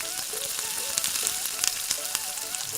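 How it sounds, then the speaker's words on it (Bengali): Hilsa fish roe fries in hot oil in a pan, giving a close, constant sizzle with sharp crackling pops, under a faint steady tonal background. "তেলটা গরম হয়ে এলে আমি একে একে মাছের ডিমগুলোকে ভেজে নেব।"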